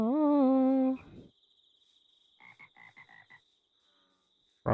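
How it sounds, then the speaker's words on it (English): A frog croaks in the Minecraft video game, with a loud pitched call at first and then a quick run of five short, softer croaks over a faint high steady hum, with no voices. "Frog sounds."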